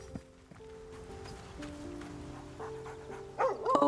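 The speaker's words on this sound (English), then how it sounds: "Oh, hey, we have a dog." A dog in the video game Baldur's Gate 3 gives a couple of short barks and yips over a soft background music bed, fairly faint at first with a louder burst near the end.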